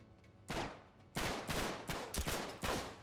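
Gunfire in Uncharted 3: Drake's Deception, several loud, close bursts of shots in quick succession with short gaps between them, punchy and sharp throughout.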